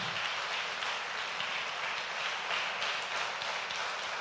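Applause from a church congregation after a preacher's Easter sermon on the resurrection of Christ: dense, steady clapping that fills the room without pause, with no voices over it.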